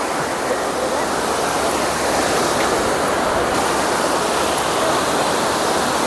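Steady, loud rushing surf fills the whole stretch, a continuous broadband roar of sea waves breaking on a beach at Sattahip, Thailand, with no clear pauses.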